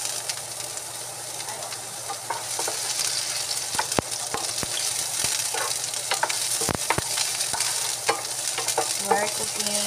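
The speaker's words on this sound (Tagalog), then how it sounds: "We're cooking chicken adobo with Sprite." Chicken adobo made with Sprite fries in a pan, giving a steady close sizzle with scattered pops and crackles throughout.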